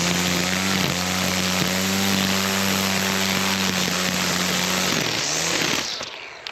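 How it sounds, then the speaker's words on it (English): A string trimmer whines at high, steady revs, the line cutting grass up close with brief dips in pitch, before the engine winds down and cuts off near the end. "Let's go out and trim with it and see how we do."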